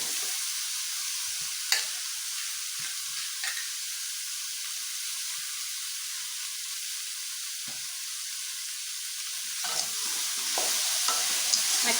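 Raw banana stem pieces stirred and frying in a pan give a steady close sizzle, with occasional scraping stirs of the spoon against the pan and no talking.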